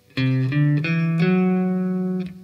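A few sustained guitar notes step through a short Dorian-mode scale, each struck clearly and ringing into the next, ending with a held tone.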